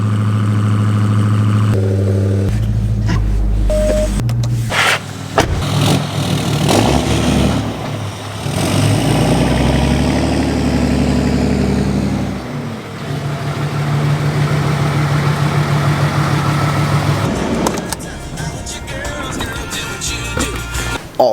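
A car engine idles and revs gently as it is driven into a garage beside a truck, running steadily and loud up close for about twenty seconds, with a few clunks and shifts in tone.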